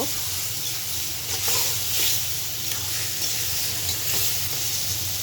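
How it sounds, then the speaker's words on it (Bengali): Chopped tomatoes hitting a hot pan over high heat and stirred, a continuous loud sizzle and hiss with rhythmic scraping strokes throughout. "তো এই টমেটো কুচিগুলো দিয়ে দিতেছি। এগুলো ভালো করে নেড়ে চেড়ে মিশিয়ে নেব।"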